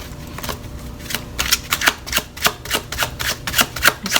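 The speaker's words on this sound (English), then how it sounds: "just shuffle these like this, split them up." Tarot cards being shuffled and split by hand, with a fairly regular series of sharp papery flicks and slaps close to the mic, loud and with no voice.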